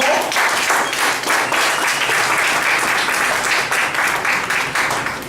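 An audience gives a sustained round of applause for a speaker at a talk, dense clapping that stays loud and steady throughout without a break.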